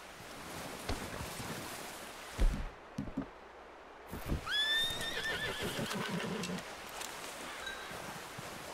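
A horse in the video game Red Dead Redemption 2 gives a loud, descending whinny midway through, preceded by a few thuds and hoof sounds, with rustling and outdoor ambience around it.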